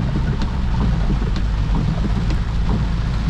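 Heavy rain drums on a BMW driving through flooded roads near Bangalore, a dense, loud roar with low rumble and occasional soft thumps from the wipers.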